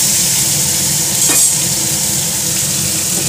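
Vegetables such as pumpkin and ridge gourd frying in a pan, with salt and turmeric added, give a steady close sizzle throughout and a brief stirring scrape near the middle.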